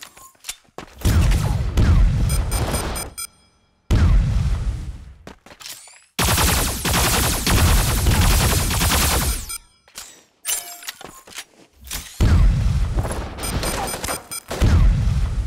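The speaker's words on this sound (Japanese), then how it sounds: "銃声よ、気を引き締めて" Loud bursts of gunfire and booming explosions from the video game Super Mecha Champions come in several separate volleys with brief silent gaps between them, harsh and close.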